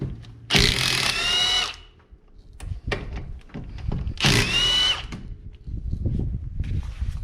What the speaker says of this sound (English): absolutely love this rigid mid torque